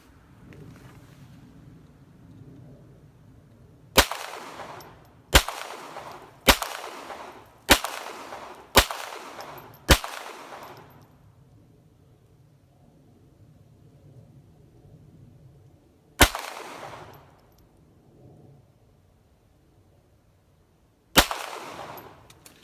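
A Ruger Mark IV pistol fires sharp, loud single shots, a quick string of six evenly spaced reports followed by two more widely spaced shots, each with a short outdoor decay and no talking.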